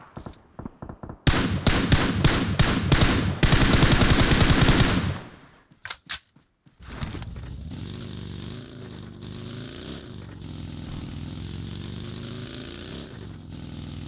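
Machine gun fire in the video game PUBG: a rapid, loud automatic burst that cuts off abruptly, followed by a few isolated shots and then a steady droning engine-like hum with shifting tone.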